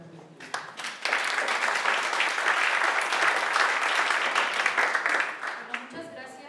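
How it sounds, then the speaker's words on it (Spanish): Audience applause at an academic panel colloquium, a dense steady wash of many hands clapping that swells after a brief start, holds for about five seconds, then tapers off. "les pido un aplauso para mí."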